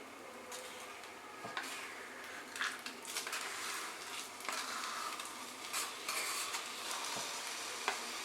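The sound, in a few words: jaggery stirred into frying coconut in pan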